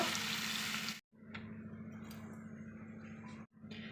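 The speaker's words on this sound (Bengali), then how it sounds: "এখন আমি জল দিয়ে দিচ্ছি পরিমাণ মতো দেব" Water poured into a pan of frying hilsa fish curry with potato, a close hissing sizzle with a low bubbling bed that briefly drops out twice before resuming.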